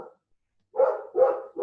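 Dog barking nearby, three quick moderately loud barks after a brief silence, with no talking.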